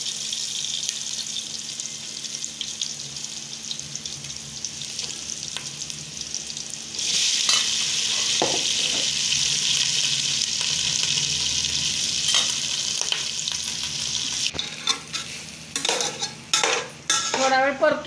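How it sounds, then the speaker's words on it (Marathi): Cooked rice for jeera rice, tossed in a pan with half a spoon of turmeric, gives a steady loud sizzle and frying hiss. Spatula scrapes and metal clinks turn up throughout, and they grow busier and sharper near the end. "थोडा वेळ परतून घ्यायचा आपल्याला"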